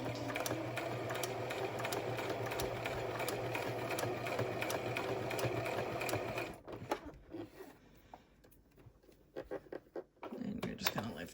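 A sewing machine runs steadily while stitching along the edge of a fabric face mask, its motor whirring without a break for about six seconds before it stops. A voice talks over the sewing, and a few faint handling sounds follow.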